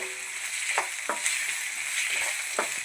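Cauliflower with potato, carrot and beans frying in a pan for a sadya masala curry: a steady close sizzle broken by several soft scraping stirs, with no talking.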